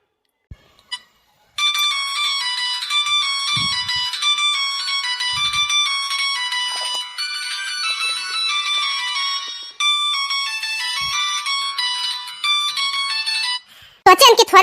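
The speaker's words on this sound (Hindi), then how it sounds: "तब देखिए क्या फोन बाज जाता है" A mobile phone ringtone plays a bright, repeating electronic melody for about twelve seconds, loud and close, with only a few faint knocks beneath it and no talk.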